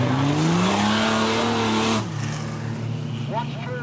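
Ford Falcon race car at Kingaroy Speedway in a modified production series race, its engine roaring loud and close with a steady high drone that drops away sharply midway as it passes, with a race commentator talking over it.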